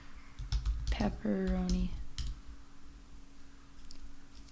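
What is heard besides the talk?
typing a word on a computer keyboard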